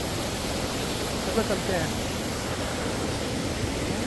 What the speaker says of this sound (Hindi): पानी का कितना शोर है